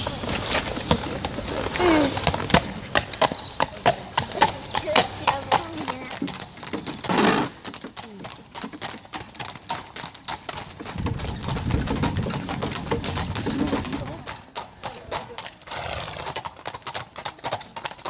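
Horses of a mounted patrol post in Chantilly clopping steadily on hard ground, close and fairly loud, their hooves beating a quick rhythm alongside an engine hum and brief bird calls.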